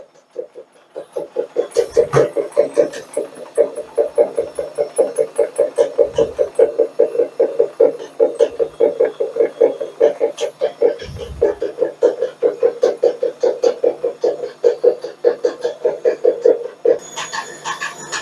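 A washing machine with a fault rattles and thumps in a fast, steady rhythm during a spin, loud and close, with brief clanks now and then.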